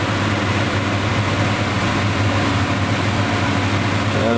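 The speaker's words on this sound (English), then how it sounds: "what you can hear that noise in the background is the extractor fans" Extractor fans in a carbon fibre workshop drone steadily in the background, a loud, even broadband hum with low rumble that holds unchanged throughout with no talking.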